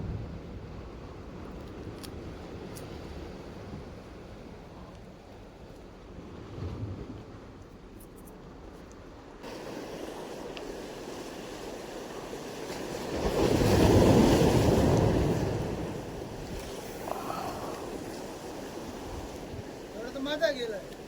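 Sea waves at the jetty in Kashid, heard as a continuous broad wash of surf that swells into a louder surge midway before easing back, with wind-like noise throughout.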